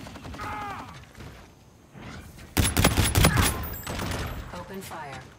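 Rapid bursts of automatic gunfire in a video game erupt midway, dense and loud, mixed with mechanical clicks and voice chatter before and after.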